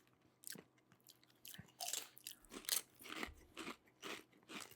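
Close, quiet crunching of Canadian Doritos tortilla chips, a series of sharp bites followed by rhythmic chewing crackles with no talking.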